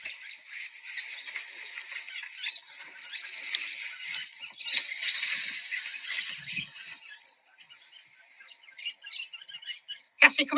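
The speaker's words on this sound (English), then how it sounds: "you should be able to hear the squawking then" Birds squawking and chirping in a dense, continuous chatter that fades to scattered calls, with a sharp close noise right at the end.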